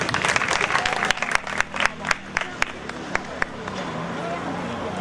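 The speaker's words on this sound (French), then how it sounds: "Monsieur Anne, applaudissez monsieur Anne" Crowd applause at a mosquito net distribution ceremony in Ouakam: a steady, dense patter of many hands with a few louder nearby claps standing out, gradually thinning while voices murmur underneath.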